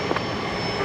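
A Boeing 737 Max 8 airliner taxis at Brisbane Airport, its engines giving a steady, distant broadband whine and rumble with a faint high tone, unbroken and without voices.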